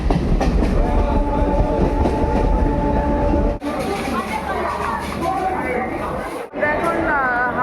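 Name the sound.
train departing Santragachi Junction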